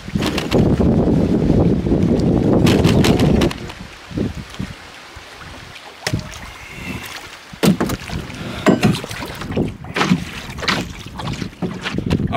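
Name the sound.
paddling a canoe across a windy lake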